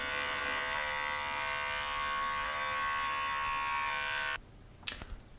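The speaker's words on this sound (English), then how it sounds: "Now I'm going to have a shave with an electric shaver." An electric shaver buzzes steadily and close up during a shave, a dense harmonic drone that runs for about four seconds before cutting off, followed by a couple of small handling clicks.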